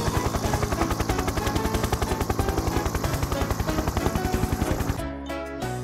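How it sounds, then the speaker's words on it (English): Steady, loud rhythmic chopping of a cartoon helicopter's rotor blades with engine whine, continuous throughout, changing character briefly near the end, from a Thomas and Friends augmented-reality app. "Fly Harold the helicopter"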